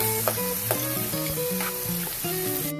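Tomatoes cooking in a pan for a fiesta menudo, a steady close sizzle with light stirring scrapes, under faint background music tones.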